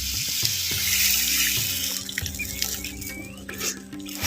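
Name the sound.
pouring tamarind water into pan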